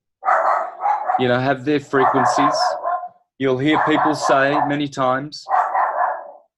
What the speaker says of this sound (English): sorry about the dog there in the background